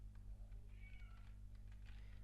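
A pet cat meows repeatedly in a room, thin, mid-loud calls over a steady low electrical hum, with no talking.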